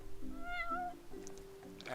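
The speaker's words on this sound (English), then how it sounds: "You're one spoiled cat." A cat in the video game Final Fantasy XV gives two clear, close meows, the first drawn out and the second shorter and rising, over a quiet background.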